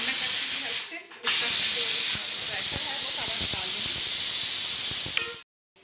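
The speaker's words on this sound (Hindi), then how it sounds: "ये देखिए हमने कुकर का जो प्रेशर है वो निकाल दिया।" Steam hisses strongly and continuously as a pressure cooker vents its pressure after two whistles, with a brief dip early on and a sudden stop at the end.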